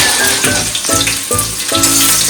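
Slit green chillies hit hot oil already holding whole garam masala and ginger for a coconut chicken stew, sizzling loudly and close with steady frying crackle and a few stirring scrapes.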